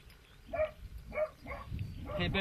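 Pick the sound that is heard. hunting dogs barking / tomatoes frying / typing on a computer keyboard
hunting dogs barking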